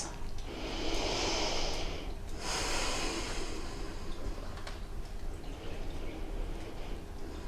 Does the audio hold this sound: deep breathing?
yes